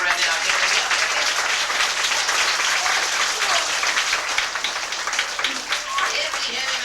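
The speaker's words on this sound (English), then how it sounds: "Let's clap really loudly for him right now." Children and adults at a 1991 summer reading program show with a ventriloquist in a small-town Ohio library clap loudly together, a thick sustained burst of many hands with scattered voices underneath.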